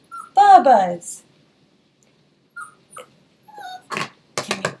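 A puppy lets out a few short, high whimpers and yips between quiet pauses, with brief bits of nearby activity.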